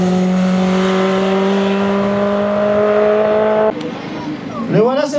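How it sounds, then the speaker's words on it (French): A Reynard race car idles loudly at the start line of a hill climb with a steady droning engine note, then launches with a rising, wavering rev, while someone talks over it. "la magnifique Reynard numéro 4 sur la ligne de départ"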